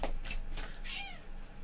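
Cat meows indoors, a couple of short, fairly close calls over a steady low room hum, with no talking.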